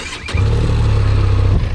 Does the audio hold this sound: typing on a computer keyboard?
no